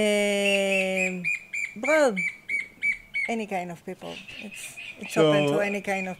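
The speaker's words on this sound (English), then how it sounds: "Lots of birds. Lots of birds." Birds chirp and call in the background at a retreat in Vilcabamba, Ecuador, high repeated tweets and a few louder squawks, while a person talks over them.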